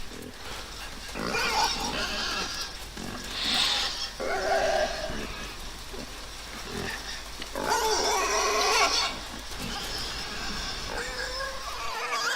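A pig squeals and grunts frantically in the side-scrolling video game Inside, driven mad by a mind-control slug on its head; loud, close bursts of shrieking come in several waves over muddy ambience.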